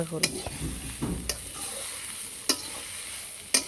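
Green chilli and fish pieces (chital, katla) frying in a pan give a steady sizzle, with several sharp clinks and scrapes of a spatula stirring and a few muffled bumps.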